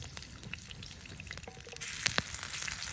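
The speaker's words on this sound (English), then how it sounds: "That was a lot of sizzle for a red pepper." Red pepper sizzles and crackles in a hot pan while camping, the frying growing louder and more intense partway through, with a few clinks of a utensil.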